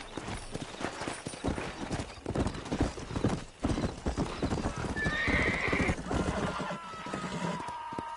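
A horse in Red Dead Redemption gallops with rapid, continuous hoofbeats up close, then lets out a loud whinny partway through, with faint mechanical clicking underneath.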